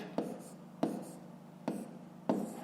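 A pen writes on paper in four quick, separate bursts of scratching, close and quiet, with no voices.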